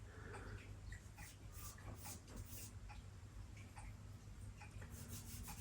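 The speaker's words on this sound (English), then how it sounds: "And I'll rub that back because I don't want it to be too dark in places." Charcoal is rubbed back on a freesia drawing, giving a very faint, soft scratchy rubbing in quick strokes, with a low hum underneath.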